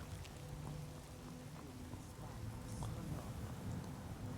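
Soft, steady rainfall in Skyrim Special Edition hisses continuously at a faint level, with a low rumble underneath and no voices.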